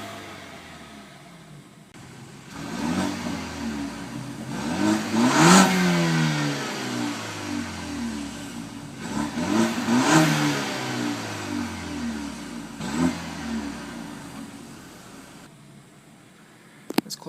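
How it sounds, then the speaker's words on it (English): A 2012 BMW 328i Sport Line engine is revved in repeated swells, three rising-and-falling runs that climb smoothly to a peak, then settle back to a soft burbling idle between bursts. "It has a slight exhaust burble too,"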